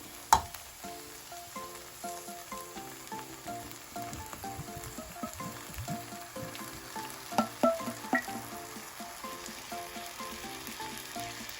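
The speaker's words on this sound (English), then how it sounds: "now I'm going to add in some coconut milk" Coconut milk poured into a sizzling pan of curry tofu gives a bubbling, crackling simmer with irregular pops and a steady frying hiss.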